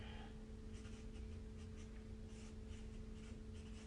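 A pen scratches across paper in short, uneven handwriting strokes, quiet and close, with no voices.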